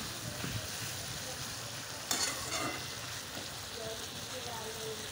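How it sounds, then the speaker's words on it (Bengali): Spice paste with slit green chillies frying in a pan for a potato and pointed gourd dish, a soft steady sizzle with a brief louder scrape of stirring partway through. "মশলাটা ভেজে নেব।"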